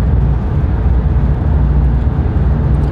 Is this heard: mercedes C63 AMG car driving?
yes